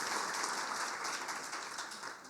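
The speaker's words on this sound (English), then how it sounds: "Another round of applause for the mayor, please." An audience at a marketing and sales talk gives the mayor another round of applause, a soft, steady wash of distant clapping heard alone for a couple of seconds.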